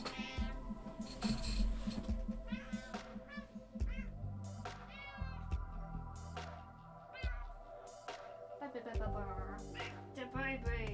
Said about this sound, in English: a cat just screamed at me